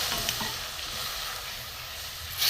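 A malai chop pitha mixture fried with milk in a pan gives off a continuous close sizzle and bubbling, with soft stirring underneath and a brief louder scrape at the end.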